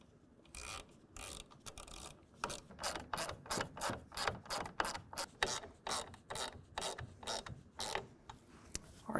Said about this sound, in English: We're going to use a T25 Torx bit with the included hardware.